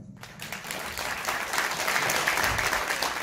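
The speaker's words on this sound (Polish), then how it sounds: "Wielkie brawa." Sustained applause fills the hall at a gala marking 20 years of a folk cycling club, a crowd clapping steadily and growing slightly louder throughout.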